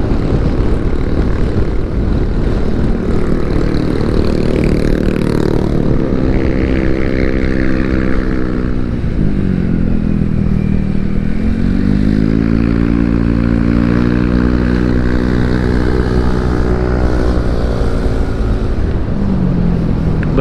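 A Yamaha FreeGo 125 scooter engine pulls hard uphill near Lembang, its droning note climbing and dipping with the throttle, loud and steady throughout with wind rush and no talk.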